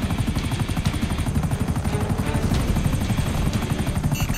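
A helicopter in an online video game chops loudly and close, its rapid rotor beat pulsing steadily for several seconds with a faint high whine on top.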